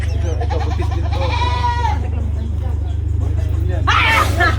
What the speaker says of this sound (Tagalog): Sila, mga goat, ito may malahing kambing.